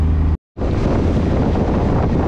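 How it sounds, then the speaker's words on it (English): Loud, roaring 20-knot wind buffeting the microphone aboard a C&C 35 Mk III sailboat, a dense constant blast broken by a brief dropout, then continuing unabated. "Wind is 20 knots."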